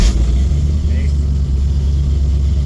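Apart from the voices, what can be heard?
1959 GMC pickup engine starting and idling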